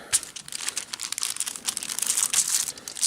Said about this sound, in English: I can fold the aluminum foil over and cover both sides